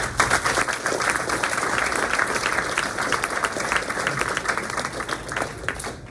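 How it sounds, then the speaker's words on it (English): Guests at a 2023 New Trier boys' track and field banquet applaud the athletes' parents, a thick, continuous wash of clapping from a roomful of people that holds steady throughout. "So let's give a round of applause to the parents."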